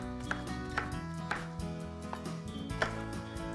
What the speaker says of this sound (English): So I'm just gonna slice them just like that.